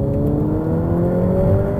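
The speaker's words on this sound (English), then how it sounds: "enjoy a truly spectacular V8 Ferrari" Ferrari F8 Tributo with a turbocharged V8 engine, a steady loud mechanical drone with strong low harmonics, holding a sustained rev under load with no talk.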